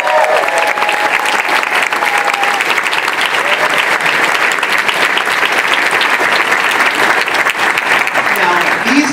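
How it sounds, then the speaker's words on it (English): A large convention crowd at RuPaul's DragCon keynote bursts into sustained applause, a loud, dense roar of clapping with faint cheering and voices mixed in, unbroken for about nine seconds. "Can I get a round of applause?"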